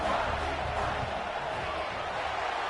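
A home stadium crowd in an NCAA college football video game roars with a steady, dense, unbroken wall of cheering throughout.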